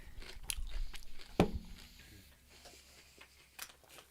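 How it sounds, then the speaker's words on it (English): Chips crunch close to a microphone during a casual podcast chat: a few sharp bites, one especially loud near the middle, followed by softer chewing crackles, with no talk over them. "I'm trying not to crunch my chips too loud into the mic."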